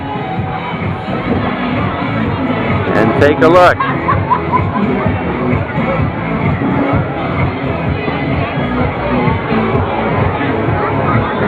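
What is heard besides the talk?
crowd of people at the Baker's Dozen beer run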